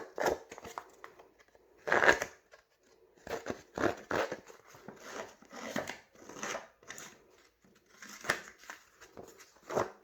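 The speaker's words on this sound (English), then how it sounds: "And then I'm going to come in and I'm going to distress the other two sides." Paper edges of a handmade shabby chic, vintage style card are distressed in irregular bursts of crisp scraping and crinkling, close by, with short quiet gaps between.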